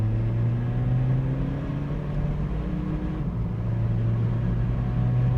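Volkswagen Polo fitted with a swapped-in 2.0 litre TDI diesel engine pulling hard under acceleration, a steady loud low engine drone with rising whine, continuous and close, no talking.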